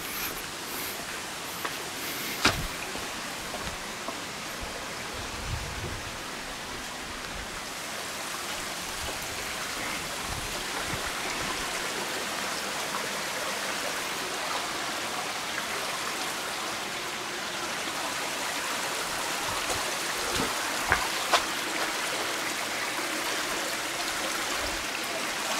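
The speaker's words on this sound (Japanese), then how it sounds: "雨漏れがひどいな。" Rainwater leaks and drips steadily inside an abandoned house, giving a continuous close wash of water. A few sharper isolated drips stand out against it, and no one talks.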